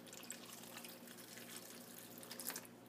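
Water pours and trickles into a container while making a homemade baking soda volcano, a steady close splashing run with a brief louder burst near the end.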